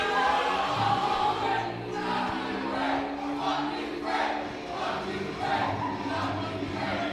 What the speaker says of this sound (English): F.U. Frank chant going out here pretty early in the game